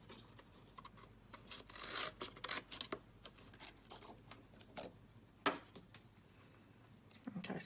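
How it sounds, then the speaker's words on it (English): Scissors snip through a paper card, cutting close around a stamped poinsettia design, giving a faint series of irregular cuts and rustles up close with no talking. "We'll just cut that one out."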